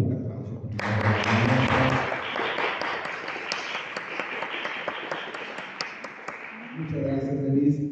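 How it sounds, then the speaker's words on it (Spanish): Audience applause at a book presentation, a dense, sustained round of clapping lasting several seconds, loud and close, with voices talking briefly before and after. "Un fuerte aplauso."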